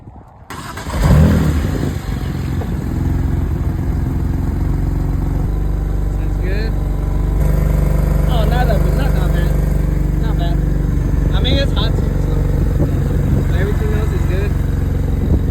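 A 2008 BMW 335i with a rough idle and an intermittent no-start fault cranks and fires after a second, then runs at a loud, steady, close idle while people talk over it.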